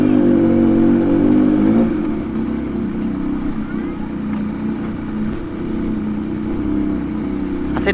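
A Yamaha MT-09 motorcycle rides a rough road, its engine droning steadily up close with a louder rev at the start, then a lower rumbling hum with road noise.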